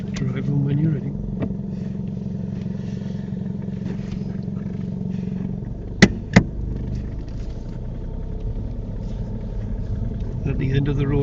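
A car pulls away during a UK mock driving test, its engine rumbling steadily and close throughout with a couple of sharp clicks midway as a person speaks over it.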